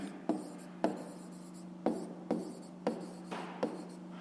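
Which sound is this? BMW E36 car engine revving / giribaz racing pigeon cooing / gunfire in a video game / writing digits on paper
writing digits on paper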